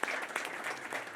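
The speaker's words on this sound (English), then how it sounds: "So let's give her another round of applause." Brief audience applause at a conference session, many hands clapping in a full, even patter with a few sharper claps standing out, moderately loud and unaccompanied by speech.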